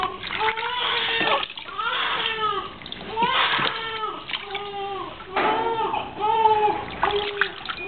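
Water splashes softly as an infant's face is washed during a first bath, while the baby cries and whimpers and adults talk nearby.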